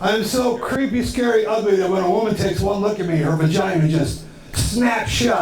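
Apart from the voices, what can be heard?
None of the usual background noises is heard.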